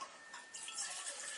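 Cold tap water from a deep well runs into a pot for boiling on a small alcohol stove, a brief, steady splashing pour heard close and fairly faint, with no talking.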